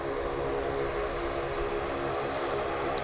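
A small Link Airways turboprop airliner at Sydney Airport makes a loud, continuous propeller and engine drone, close and steady throughout the short stretch, with no speech.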